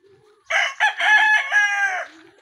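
A gamefowl rooster crows once, loud and close, a single drawn-out cock-a-doodle-doo lasting about a second and a half against quiet surroundings.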